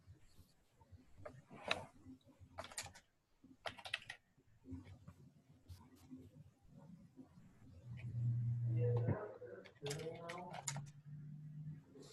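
Typing on a computer keyboard produces soft, irregular bursts of key clicks. A person talks between them, and a passing car's engine swells in the background near the end.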